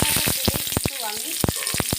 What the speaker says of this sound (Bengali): এবার ফোড়নে আমি কি দিচ্ছি দেখো তেজপাতা পাঁচ ফোড়ন আর কাঁচা লঙ্কা